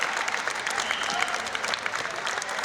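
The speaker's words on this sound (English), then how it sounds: "that gets the fans a full round of applause for that one" Fans applaud at a men's badminton championship final, with steady, dense clapping filling the hall from start to finish and a faint murmur of crowd noise beneath it.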